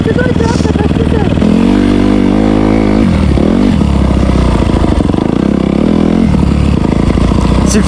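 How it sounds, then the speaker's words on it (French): A dirt bike engine revs and pulls hard on rough cross terrain, its loud mid-pitched roar rising and dipping with throttle bursts while someone talks over it throughout. "tu donnes un coup de gaz dedans et tu vois, ça passe tout seul"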